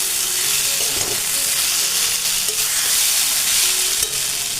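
Onion frying in a pan for a shredded fish and patal dish gives a loud, steady sizzle, with a few soft scraping knocks from stirring cutting in at intervals.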